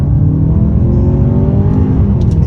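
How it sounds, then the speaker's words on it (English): 2022 Hyundai Santa Fe Calligraphy SUV accelerating hard in second gear, a loud, close, continuous engine roar and road rumble heard from inside the cabin. "So we can't really step on the gas hard in first gear, but second gear,"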